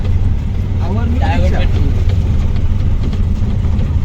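A new autorickshaw, a three-wheeler, idles with a steady low engine rumble throughout, while people talk over it.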